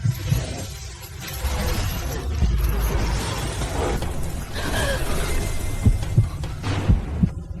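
A heartbeat sound effect in a Hindi-dubbed fantasy drama gives low, steady thumps buried under a loud, dense wash of music and ambience, with no talk.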